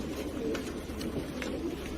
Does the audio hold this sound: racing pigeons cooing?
yes